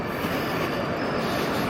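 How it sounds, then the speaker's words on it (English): A train rolls past the new tunnel at the Long Island Rail Road by Willis Ave, a steady, loud, continuous rumble of railcars and wheels on track that fills the whole moment without letup. "Goes another train"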